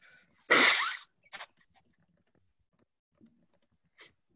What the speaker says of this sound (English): I'm probably going to sneeze about 10 times